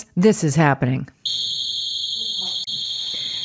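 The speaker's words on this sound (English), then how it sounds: "That's my alarm going off." A home alarm sounds a loud, steady high-pitched electronic tone that starts abruptly right after a short spoken remark and continues unbroken, with a faint voice underneath.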